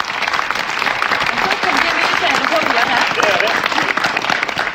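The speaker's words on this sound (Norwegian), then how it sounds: "Få en applaus til for MGP!" Audience applause at the Norwegian TV music contest MGP, a loud, close, sustained round of clapping from a large studio crowd, steady throughout with a few voices mixed in underneath.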